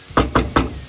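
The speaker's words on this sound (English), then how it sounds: "cover it with lid and let it cook a little bit." Three quick, evenly spaced knocks sound close and fairly loud as a lid is set onto a casserole cooking dish, with no talking.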